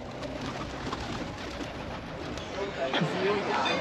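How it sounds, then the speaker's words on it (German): Pigeons coo close by around a single goose on a rainy day in Scheveningen, the soft calls set in steady outdoor background noise with a faint voice underneath. "Was macht denn die eine Gans hier mit den vielen Tauben?"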